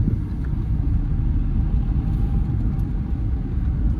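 Cars passing in busy street traffic in Akola, a continuous loud low rumble of engines and tyres close by, with no voices.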